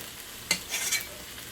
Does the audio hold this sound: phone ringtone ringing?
no